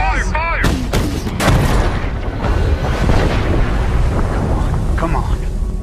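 Naval guns fire in the war film Greyhound, with heavy booming blasts that crack out one after another at close range over a continuous rumbling roar, while voices shout over the din.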